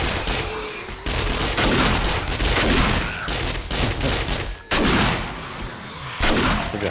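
Repeated loud shotgun blasts in the video game 7 Days to Die, heavy booming shots in quick succession with brief gaps, dense and close, with no other sound standing out.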